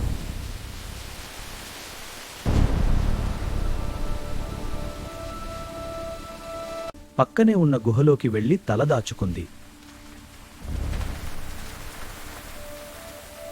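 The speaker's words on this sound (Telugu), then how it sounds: "ఇంతలో వాన పడింది." Steady rain sound effect behind a narrator telling a children's story about a deer in a forest, with a hiss of rainfall that rises and fades and a short musical interlude in the middle.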